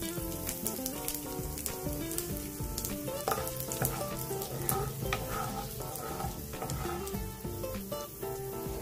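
Fenugreek seeds and asafoetida sizzle and fry in hot oil for a Chettinad okra curry, a steady, loud crackling hiss with dense popping throughout and no talking.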